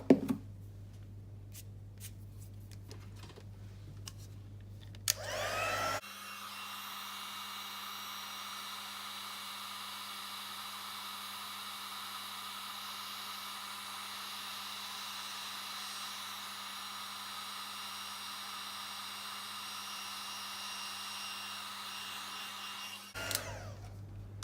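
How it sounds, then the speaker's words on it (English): Heat tool blowing hot air to melt black embossing powder on a stamped sentiment, a steady whooshing hum running for about seventeen seconds after a few soft handling clicks, then cutting off. "I'm going to heat that up with the heat tool as well."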